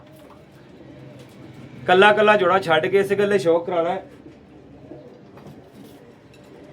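Sialkoti breeder pigeons coo softly in the background while someone talks loudly over them for a couple of seconds.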